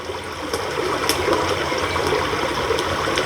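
Water of a large river flowing around an island: a steady, broad rushing wash, fairly loud and continuous, with faint ticks and crackles scattered over it and no voices.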